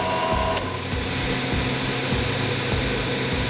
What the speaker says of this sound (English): When I turn it back on, the vacuum will come on,